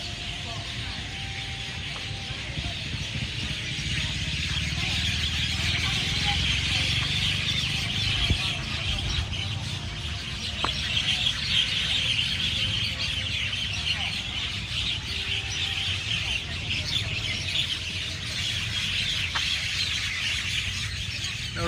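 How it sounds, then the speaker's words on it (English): Noisy birds calling around a clocktower in Lamae, Chumphon province, Thailand, a steady dense chorus of bright chirps lasting throughout with a low background rumble and no voices. "Listen to these birds, would you?"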